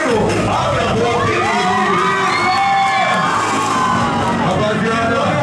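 Loud nightclub crowd at a Brazilian funk MC show at a club, shouting, whooping and cheering continuously for a dancer on stage, a dense wall of voices throughout.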